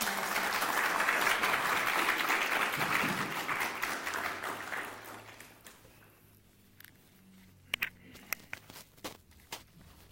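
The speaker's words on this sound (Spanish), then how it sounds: "Les pido un aplauso para nuestro maestro." Audience applause for a speaker at a talk on Isabel de la Trinidad and human development, full and steady at first, then fading to scattered isolated claps and small shuffling noises.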